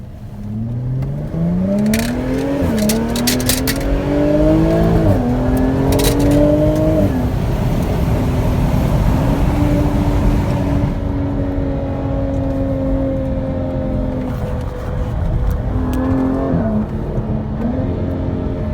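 A Jaguar F-Type all-wheel-drive convertible cruises slowly and smoothly, its engine a steady, fairly quiet hum that rises and falls with gentle gear changes throughout, no talking.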